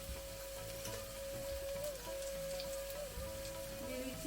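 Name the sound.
ground spices added to hot pan, sizzling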